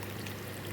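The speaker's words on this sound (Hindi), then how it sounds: "जी ये हम इसमें दूध ऐड कर रहे हैं" Milk is poured into carrot halwa in a cooking pot, a brief soft continuous pouring wash heard faintly up close.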